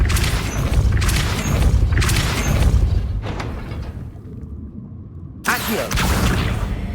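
Hogwarts Legacy spellcasting: the Depulso spell lands in heavy, booming impact bursts, several loud blasts in sequence with a brief quiet gap before a final thump.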